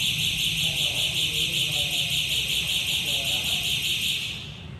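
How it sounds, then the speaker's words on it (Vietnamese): A bank's fire alarm blares continuously with a steady, piercing electronic tone that holds loud for several seconds before starting to fade, while someone talks underneath. "vừa rồi hiện tượng báo cháy của ngân hàng đang hoạt động"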